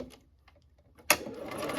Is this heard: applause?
no